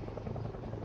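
Helicopter from the video game Project Zomboid: a steady, rumbling rotor drone with a dense, continuous chop, moderately loud and unchanging through the short stretch, with no talking over it.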